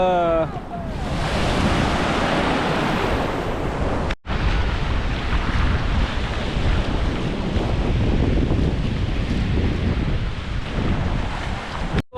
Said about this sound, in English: Das ist Mombasa Beach Strand, Mombasa Strand